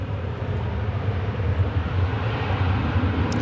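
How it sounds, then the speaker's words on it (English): An American Airlines Airbus A321 at DFW Airport gives a continuous low jet engine roar, steady and fairly close, with deep rumbling and no voices. "That's American Flight 1676, Airbus A321."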